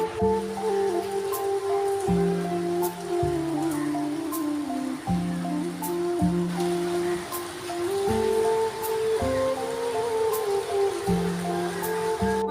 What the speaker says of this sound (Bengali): চলুন বৃষ্টিটা একটু দেখায় এত জোরে বৃষ্টি আসছে